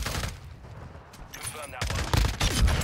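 Shotgun fire in Modern Warfare II on the Shoot House map: several sharp, loud blasts and gunfire bursts crowd a short stretch, with a voice talking over parts of it.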